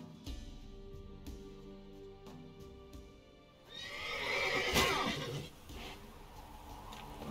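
A horse in The Witcher 3 whinnies in a loud, close burst partway through, with game ambience and soft tonal music before it.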